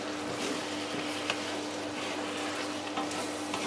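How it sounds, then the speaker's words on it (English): Chicken adobo simmering in soy sauce in a pot is stirred, giving a steady low bubbling sizzle with soft scraping stirs throughout, close and fairly quiet, with no talking. "Let's give it a stir before we decide on 3"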